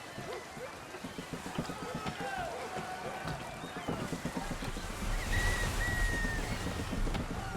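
A sailing ship in Assassin's Creed III runs under full sail, with a continuous rush of water and wind that swells as the ship gathers speed, and voices call out faintly over it.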